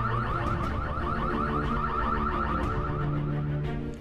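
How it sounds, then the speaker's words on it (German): Fire alarm system sounding during an emergency drill at a social centre in Frastanz, a steady, loud, continuous warbling electronic tone that repeats rapidly throughout with no talk. "Die Brandmeldeanlage löst aus."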